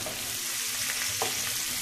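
Asparagus frying in a pan before going into a fall soup, a steady close sizzle and crackle with faint stirring scrapes, no voices.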